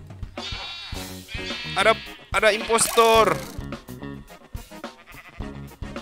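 Sheep bleat repeatedly in Minecraft as a pack of wolves attacks the flock, the cries loud and overlapping, mixed with game sounds and a voice talking over them.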